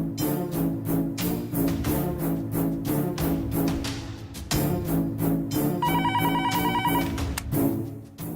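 An outgoing telephone call rings in a Tamil TV serial scene, with repeated rhythmic ringing tones that are loud and continuous over a backdrop of other sound, and no talking.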